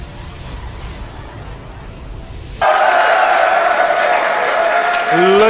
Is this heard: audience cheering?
yes